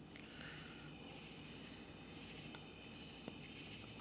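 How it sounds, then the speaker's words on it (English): Night ambience of crickets used as an added sound effect: a steady, high, continuous chirring trill, soft and even throughout with no voices. "This night ambiance at the beginning,"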